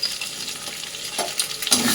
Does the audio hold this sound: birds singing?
no